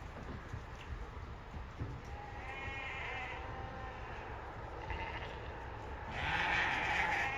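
Sheep and lambs bleating inside a four-deck livestock float, several calls at moderate distance over a steady low rumble, with a louder bleat near the end.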